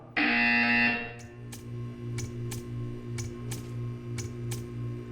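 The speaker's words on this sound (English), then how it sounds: "You will hear a buzzer." A loud electronic buzzer in the video game Portal 2 sounds for about a second, then stops, followed by a string of sharp, evenly spaced clicks over a low hum.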